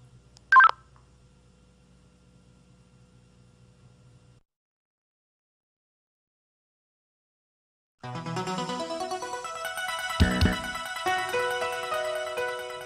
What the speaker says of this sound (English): Using the keypad, enter the ID of the person you want to contact.